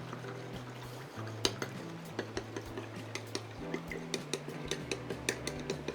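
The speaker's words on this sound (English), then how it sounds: "Okay, so let's add it and mix." A spoon stirring clear xanthan gum gel for a low-viscosity beauty-product base, with a run of light rhythmic clinks and taps against the container, close and fairly quiet, alongside faint tonal hums.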